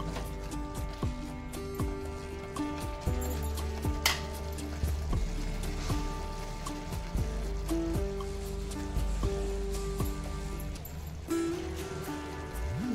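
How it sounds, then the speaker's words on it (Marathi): Drumstick masala sautéing in a pan, with a low continuous sizzle and frequent scraping strokes of a spatula, heard up close with faint background hum throughout. "आणखीन 2-3 मिनिट चांगलं परतवून घ्यायचं आहे आपल्याला."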